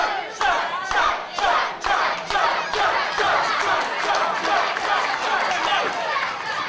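A professional wrestling crowd at an Irish Whip Wrestling event cheers and chants loudly and continuously for Chad Collyer, with bursts of yelling and clapping rising over a dense, steady roar of voices.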